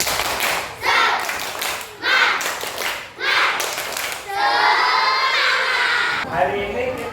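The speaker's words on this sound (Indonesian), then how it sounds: "kita tepuk semangat dulu ya" A primary-school class doing a rhythmic spirit clap, bursts of group clapping and children's voices alternating in a loud, lively pattern, with shouting near the end.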